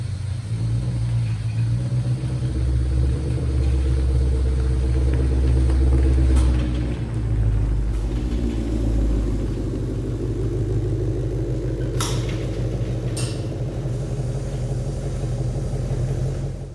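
A 2020 Ford GT500 running on a dyno at Brenspeed, a loud, continuous deep engine drone whose pitch climbs and holds steady, dominating the whole stretch.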